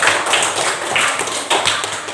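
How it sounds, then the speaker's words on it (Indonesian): A small group in a primary school classroom claps in short, uneven bursts, close and fairly loud, with a few thumps and taps mixed in. "tepuk tangan untuk Mas Dwi."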